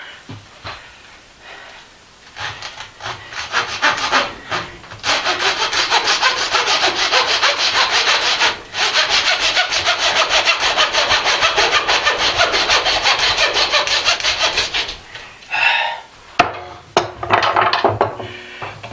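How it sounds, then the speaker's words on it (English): A hand saw cutting through hog bones on a cutting board, with a fast, steady back-and-forth rasping that runs almost continuously and loud, broken by a couple of short pauses. "Now I only ever cut the bones. I try not to cut the meat with the saw because it just makes a mess."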